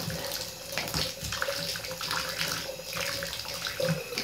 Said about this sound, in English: My water's filling up.